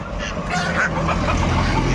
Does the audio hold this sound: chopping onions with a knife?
no